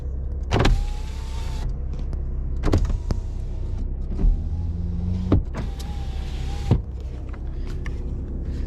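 The passenger-side electric power windows of an Audi A3 run up and down repeatedly, each pass a whirring motor hum ending in a firm thunk as the glass seats. Several separate movements sound close and clear over a low idle rumble.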